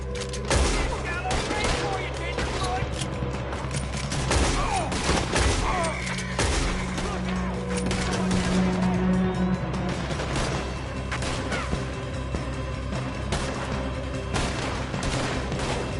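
Gunfire in a Red Dead Redemption 2 shootout: dense, overlapping volleys of rifle and pistol shots cracking loudly and continuously, with voices shouting amid the fire.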